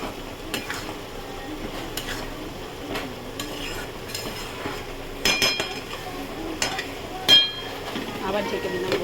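Potol chingri, pointed gourd with prawns and green chillies, stirred in a pan: soft scraping and occasional metallic clinks of the spoon against the pan over a gentle sizzle.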